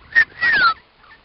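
A talking pet bird gives two short high squawks, the second a longer falling whistle-like call, close and clear with near silence around it.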